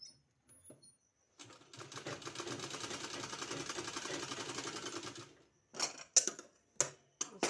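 A sewing machine stitches a two-colour fabric strip, three inches wide, onto a sleeve, running in one steady rapid whir for several seconds after a quiet start, then a few short bursts and clicks.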